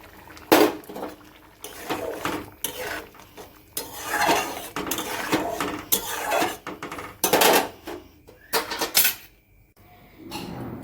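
Tamarind and poppy seed curry with potato being stirred in a pan, irregular scraping and clattering of a spoon against metal in bursts with brief quiet gaps.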